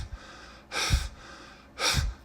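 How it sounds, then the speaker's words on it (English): Two sharp, forceful exhales during kettlebell swings, each a short breathy burst about a second apart, close and clear against a quiet room. "There's an exhale in these kettlebell swings when the bell goes between my legs and then overhead."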